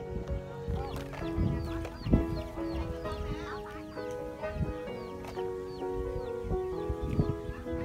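Chickens and ducks kept on a freshly harvested, fallow farm field in the Mekong Delta, scattered clucks and calls under a steady bed of music.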